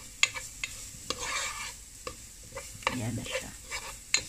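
Garlic sautés in a pan while a utensil stirs and scrapes in sharp irregular clacks over a soft sizzle, and someone says a few words briefly.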